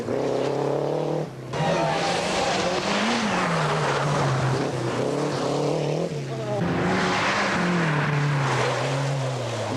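Rally cars, including a nimble Renault 5, race on asphalt, with loud engines rising and falling through gear changes and a brief dip as one passes, under continuous talk.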